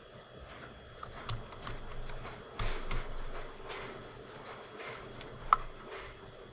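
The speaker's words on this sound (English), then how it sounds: "Sorry about the printer." An office printer runs in a quiet room, giving a faint mechanical stream of soft clicks, ticks and brief whirring bursts, with no voice.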